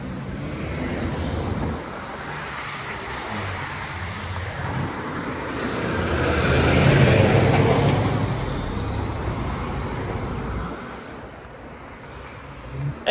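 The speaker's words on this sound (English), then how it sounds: "Nova Bus LFSC Plus electric bus" A Nova Bus LFSC Plus electric bus passes along a busy city road in North York, Toronto. Its broad whoosh swells to a peak midway over steady traffic rumble, with a faint high whine, then fades back into the road noise.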